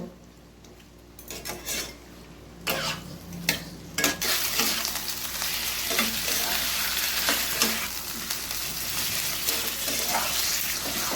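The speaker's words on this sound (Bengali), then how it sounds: "ততক্ষণ ভেজে যাব যতক্ষণ না চিকেনের জলটা শুকিয়ে যাচ্ছে এবং এর কালারটা যতক্ষণ না চেঞ্জ হচ্ছে ততক্ষণ আমি ভেজে যাব" Chicken pieces frying in a pan for chicken korma, cooked until their water dries off; a loud, continuous sizzle with scraping stirs and clinks of a utensil against the pan, starting quieter and building to a steady hiss.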